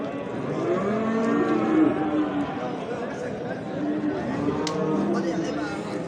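Cattle at a busy Diyarbakır livestock market moo in several drawn-out calls under the steady chatter and voices of traders nearby.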